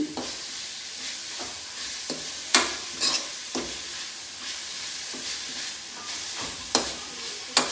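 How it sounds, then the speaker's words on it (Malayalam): Green chili, ginger and garlic fry with a soft sizzle in a pan while a spoon stirs and scrapes them in scattered sharp clicks, close and moderately quiet. "അങ്ങനെ നമ്മൾ പച്ചമുളക് ഇഞ്ചി വെളുത്തുള്ളി എല്ലാം നന്നായി പൊരിഞ്ഞ് വന്നിട്ടുണ്ട്"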